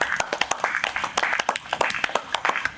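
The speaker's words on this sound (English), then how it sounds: "Let's give him a round of applause." Audience clapping for a guest at a coaching event, a dense patter of many hands with sharp irregular claps, fairly close and steady throughout, with no talk over it.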